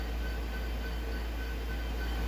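An HO scale model train runs steadily on its layout, giving a continuous, even rolling rumble and hum from start to finish with no talk.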